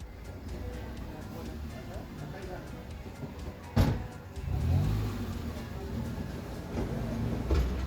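Steady low rumble of street traffic with taxis passing, one louder swell midway as something goes by close, then continuing engine noise.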